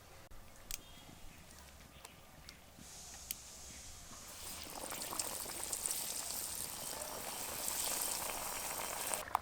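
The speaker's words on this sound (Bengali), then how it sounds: "তেলের মধ্যে এবার চপগুলো ভাজতে শুরু করেছে" Battered Panskura-style chops deep-frying in hot oil, a faint bubbling hiss that swells into a fuller, louder crackling sizzle partway through, close and continuous with scattered pops.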